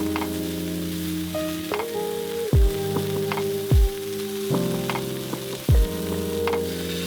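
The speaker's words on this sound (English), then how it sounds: "Keep stir-frying until the liquid cooks off." Steady sizzling of beef and broccoli stir-frying in a hot pan, with a few brief louder bursts as ingredients are stirred and tossed.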